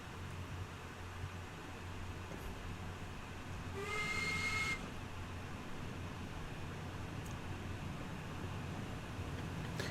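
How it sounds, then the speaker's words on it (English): A steam locomotive whistle in the Train Sim World 2 video game gives one fairly loud, steady blast lasting under a second, over a constant low engine rumble and hiss. "the whistle on this just sounds quite dodgy"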